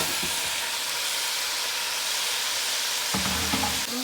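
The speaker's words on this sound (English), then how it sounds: "We're gonna make our stir fry. I'm gonna add some cauliflower and carrot that I just steamed." Cabbage with steamed cauliflower and carrot being stir-fried in a hot pan, making a steady, close, loud sizzle throughout, with a few knocks of stirring near the end.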